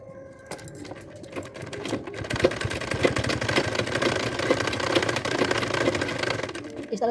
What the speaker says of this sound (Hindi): जहाँ पे इलास्टिक होगा वहाँ पे मैं खींच के इसे बिठाते हुए सील दूँगी